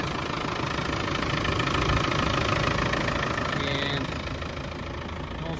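A 1996 Land Rover Defender 90 with a 300Tdi diesel engine idles steadily up close, a dense rumbling clatter holding at an even level throughout, with one brief spoken word near the start.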